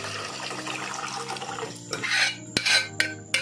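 Mashed dal tipped into a pot of sautéed radishes for Kannada-style radish sambar, with wet clatter of a spoon against the pot and sloshing liquid, ending in a few sharp scrapes and knocks.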